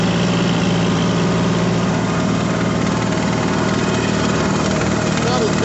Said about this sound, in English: It's a noisy tractor sometimes.